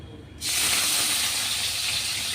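Soaked mixed lentils drop into hot oil with chilli and cumin, and after a brief quiet start a loud, even hiss of frying rises and holds steady up close.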